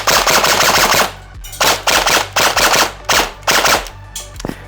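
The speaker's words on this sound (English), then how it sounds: "We'll just dump out the rest of the mag in full auto then." A Lancer Tactical KR9 airsoft replica rifle rips off several rapid full-auto bursts in close succession. The bursts are loud, close and sharp, separated by short pauses until the magazine runs dry.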